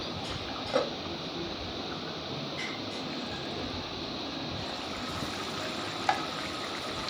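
Fish curry of anchovies simmering in a covered pan after coriander leaves are added, a steady soft bubbling and sizzling hiss throughout, with two faint clinks, no talking.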